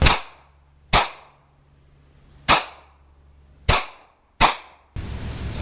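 A CZ pistol fires 9mm 165-grain FMJ HUSH subsonic rounds outdoors, five sharp cracks spaced about a second apart, each with a short decaying tail, followed by a burst of wind-like noise.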